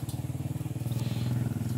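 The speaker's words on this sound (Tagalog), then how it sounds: "may mga motor dumadaan" A motorcycle engine chugs past along a roadside, a fast, even putter with a rhythmic throb that stays fairly faint and brief.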